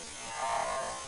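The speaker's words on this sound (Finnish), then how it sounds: "on esittelyssä uusi partakone" A new electric shaver buzzes steadily at low volume, swelling slightly in the middle of the short burst, with no talking over it.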